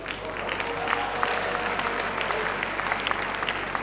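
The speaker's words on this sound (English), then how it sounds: "He deserves a big round of applause." Crowd applause for a graduating accounting education valedictorian at a university ceremony, sustained and even, a broad wash of many hands clapping with some cheering mixed in.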